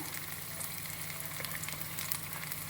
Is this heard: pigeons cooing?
no